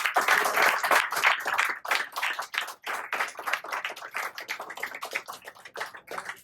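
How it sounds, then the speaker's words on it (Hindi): Live theatre audience applauding after a stage play, a dense, continuous burst of many hands clapping close and loud throughout, with faint murmuring underneath. "तो मैं आपके लिए जोरदार तालियां बजाना चाहूँगा।"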